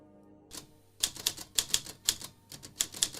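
An old manual typewriter clacks in quick irregular keystrokes, each strike crisp and close, with short pauses between bursts of typing and no voices.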